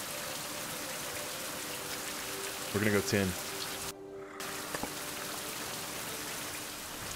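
Steady rain falls throughout in the survival video game Survival: Fountain of Youth, a constant soft hiss with a brief dropout midway; someone speaks briefly over it.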